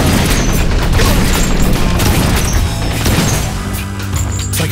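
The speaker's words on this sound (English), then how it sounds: "Shooting a cannon." Cannon fire in the video game Blue Estate, heavy booming blasts and crashes packed into a dense, loud, continuous barrage with no pauses.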